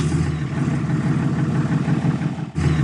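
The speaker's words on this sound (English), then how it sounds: "All I heard was the car starting up." A car engine turns over and settles into a steady, close rumbling idle with an even churning texture, briefly dipping near the end, with no speech.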